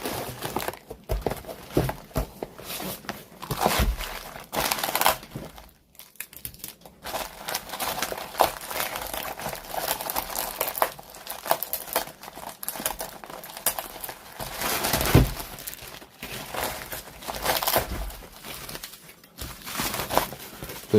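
Packaging crinkles and rustles as the outdoor board of a DC inverter air conditioner with an E5 error is unwrapped, a steady close-up stream of crackling handling noise with short pauses and no talk.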